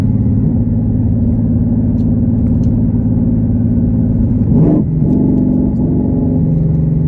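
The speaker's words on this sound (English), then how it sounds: "We'll go ahead, press of a button, open those cutouts up." A twin-turbo Hellion car of about 800 wheel horsepower rumbles deep and loud with its electric exhaust cutouts open while rolling easily on the throttle. A brief surge comes late, and no one speaks.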